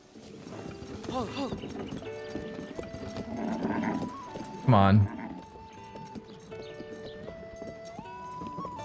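Rhythmic clip-clop of hooves with a horse whinnying loudly midway, set against game music tones, in Zelda: Tears of the Kingdom; a voice speaks briefly near the start.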